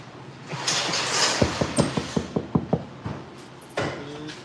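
New bolts being fitted on a car's shifter during a dual disk clutch install: a quick run of about nine sharp mechanical ratcheting clicks, close and crisp, against a quiet background.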